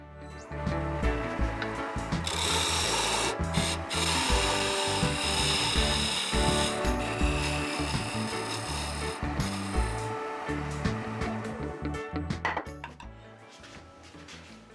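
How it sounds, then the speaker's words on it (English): Wood being cut away on a lathe to shape a taper on a turned lidded box, a loud continuous close-up scraping and rasping that runs for about twelve seconds before dropping off. "I'm going to have to remove a little more material and make a taper here"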